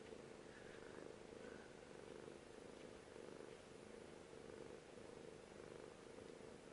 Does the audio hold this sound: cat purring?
yes